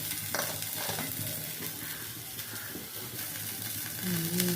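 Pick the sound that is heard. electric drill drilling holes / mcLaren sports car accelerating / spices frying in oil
spices frying in oil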